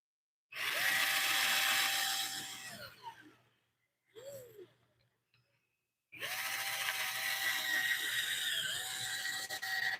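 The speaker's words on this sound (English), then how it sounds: "I'm removing more wood using the drill bit than I was with the chisel." A drill bit cutting wood from a lathe-turned wing bowl gives a loud whirring grind in two long stretches. A short, quieter burst and near-silence come between them.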